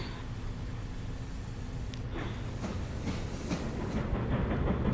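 Rail traffic in the Transport Fever 2 simulation game: a steady low rumble of a running train with faint clickety-clack wheel texture, continuous and moderately loud throughout, no talk.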